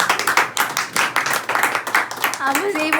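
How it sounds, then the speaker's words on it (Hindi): Family members clap at a home anniversary celebration, with quick uneven hand claps repeating close by throughout and voices chatting over them. "तालियां।"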